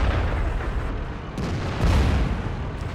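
A VK 28.01 tank fires its cannon on the Prokhorovka map in a tank battle game, making a loud, dense rumbling blast with a couple of sharper bursts inside it.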